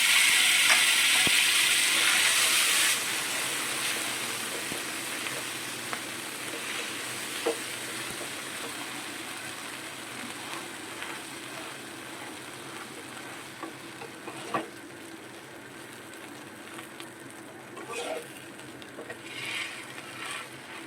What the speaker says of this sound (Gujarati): આપણે પાઉં શેકી લેશું થોડી ભાજી એડ કરીને।